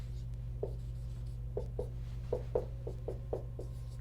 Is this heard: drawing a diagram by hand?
yes